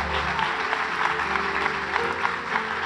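Church congregation at a family service applauding the Lord: steady, continuous clapping from many hands, moderately loud and even throughout, with a faint musical hum underneath.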